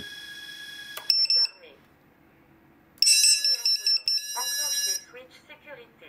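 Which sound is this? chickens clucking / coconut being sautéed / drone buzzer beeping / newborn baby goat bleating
drone buzzer beeping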